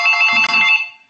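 A telephone rings during a committee meeting, a loud steady electronic bell trill lasting about a second and then fading out, heard alone.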